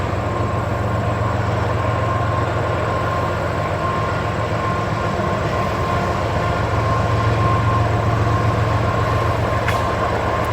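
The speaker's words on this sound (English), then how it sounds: "we'll wait for the engine to go by" A diesel locomotive engine passes a backyard garden beside a railway switchyard. It makes a loud, steady rumble that drones on throughout.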